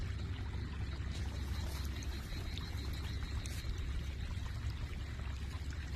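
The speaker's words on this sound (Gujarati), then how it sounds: "અને ભૂંગળામાંથી પાણી વહેતું થઈ જાય" Rainwater pouring out of a cleaned drain pipe at a farm field edge during rain, a steady continuous gush of running water heard up close with no talking.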